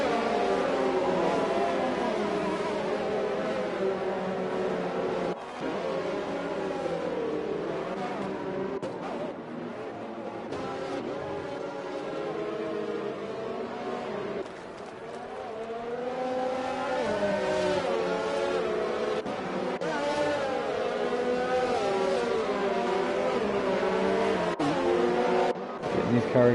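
Race cars in a racing video game roar in a close pack, their high engine whines rising and falling steadily through shifts, loud and continuous throughout.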